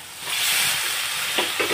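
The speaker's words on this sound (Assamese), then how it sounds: "চিকেনখিনি মচলাৰ লগত ভালদৰে অলপ টাইম ভাজি লওঁ" Chicken pieces fry with curry masala in a hot pan, giving a loud, steady sizzle with a couple of soft stirring sounds toward the end.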